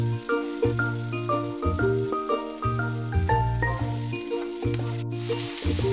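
Onion and garlic with salt sauté in a pan for Kerala-style pepper chicken, a continuous close sizzle running under a tonal musical background that stops near the end.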